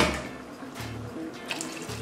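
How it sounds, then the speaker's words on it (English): Hot water is poured into a dish of marinating ingredients, giving a short, steady splashing pour close up with no talking. "And lastly, the last cup of hot water."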